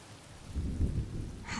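Rain in a Honkai Star Rail cutscene: a soft, steady wash of rainfall with a low rumbling swell in the middle, heard alone without voices.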